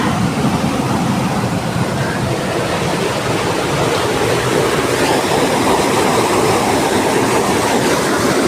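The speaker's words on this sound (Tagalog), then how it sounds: "Ingay ng tubig" Loud, steady roar of a fast river in Slovenia filling the whole scene, a continuous broadband wash with no pauses, as if standing right beside it.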